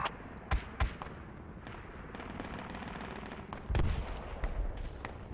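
M4 rifle fire in the military shooter Project Reality, coming from a runway perimeter, heard as scattered loud shots and short bursts over a constant rumbling background of battle noise.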